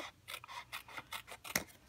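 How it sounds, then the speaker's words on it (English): Scissors cut steadily through paper during a card-making craft session, a rapid series of crisp, close snips in an even rhythm with one sharper snap near the end. "I could do that with my scissors."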